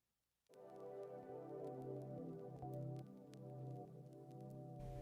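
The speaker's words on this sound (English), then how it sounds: "then I'm adding in the canned brown lentils as well." Canned brown lentils tipped into a tomato-paste sauce in a pan, giving a soft, wet squelching and sizzling texture with small drips and pops, close and steady for several seconds after a sudden start, no talk.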